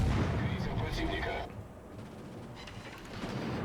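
Warship guns fire in the naval combat game World of Warships, heavy booming salvos and rumbling blasts up front that fade to a quieter rumble, then pick up again toward the end, with someone talking underneath.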